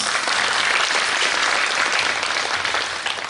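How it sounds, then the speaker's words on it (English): Loud, dense applause from the audience at a forum opening ceremony, a continuous wash of many hands clapping that fades slightly toward the end, with no voices over it. "let's give them another round of applause"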